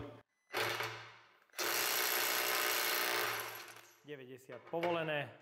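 A power tool loosens a bolt torqued to 90 Nm in two loud whirring bursts, the second longer, followed by someone speaking.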